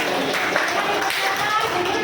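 Classroom clapping for a student group after their presentation, a steady dense patter of many small hands, close and continuous with faint voices underneath.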